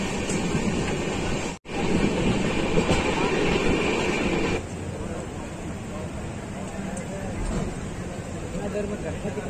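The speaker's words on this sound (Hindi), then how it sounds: "ट्रेन आ रही है तो चलो।" A train rolls into a station on an Indian railway journey from Andhra Pradesh to Odisha, a loud continuous rumble of wheels and carriages with a brief dropout, then a steadier, slightly softer roar.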